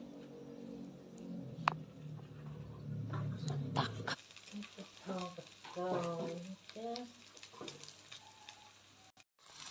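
Faint, steady sizzle of a minced pork omelette frying in oil, soft and close, with a few quiet voice-like sounds over the later part.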